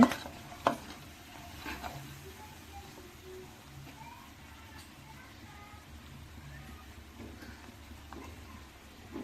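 Chana dal frying in coconut oil in a pan, a faint steady crackle and sizzle with a couple of sharp clinks near the start.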